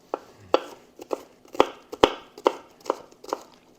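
A knife chops green onions, parsley and other vegetables for quinoa tabbouleh on a cutting board, giving about nine sharp, evenly spaced thuds close by with no talking.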